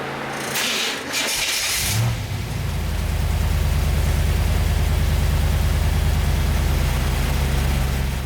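A car engine with a heat blanket on its starter and wrapped header exhaust cranks briefly, then catches and settles into a steady, loud idle with a low rumbling drone that continues to the end.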